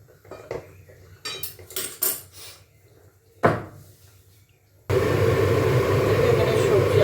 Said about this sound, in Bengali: এই ডালটা এই গ্যাসে বসিয়ে দিচ্ছি